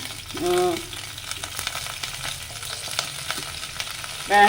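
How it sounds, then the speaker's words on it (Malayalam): Onions frying in coconut oil for a Kerala fish curry, a steady low sizzle with light stirring clicks throughout. A brief harmonic tone rises near the start and again at the very end, and no one speaks. "വെളിച്ചെണ്ണ ഒഴിച്ചു അതിലേക്ക് ഉള്ളിട്ടു"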